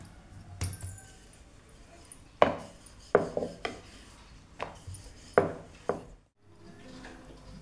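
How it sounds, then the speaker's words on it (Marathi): Spinach paratha dough being rolled out with a rolling pin on a board, a handful of sharp knocks and clacks spaced irregularly over soft rubbing, close and fairly quiet. "पराठे लाटून घ्यायचे।"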